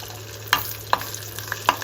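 Chana dal frying in hot oil gives a soft, steady sizzle, broken by a few sharp clinks and scrapes of a spoon stirring the pan.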